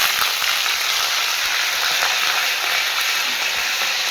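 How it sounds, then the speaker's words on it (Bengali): Spices sizzle and fry steadily in hot oil for a mutton biryani gravy, a loud, continuous crackling hiss close by with no speech over it. "এখানে তেল আছে দেখো, আর এদিকে যেটা আমি মশলা করে রেখেছিলাম সেই মশলাগুলোকে এখন দিয়ে ভালোভাবে একটু দিয়ে দেবো"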